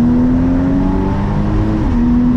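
A sports car engine with a switchable open sport exhaust, here in normal mode, drones loudly and continuously from close by, its pitch rising slightly and dipping briefly without any sharp revs.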